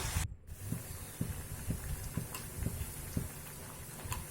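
Snack pieces fry in hot oil with a steady soft hiss and scattered small crackles and pops, fairly quiet and close.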